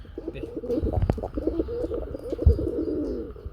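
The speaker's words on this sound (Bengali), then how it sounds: "আচ্ছা আচ্ছা ডাকটা শুনি" Repeated low, throaty pigeon coos rolling in steady phrases, close and clear, from caged pigeons, with a couple of soft thumps or wing flutters mixed in.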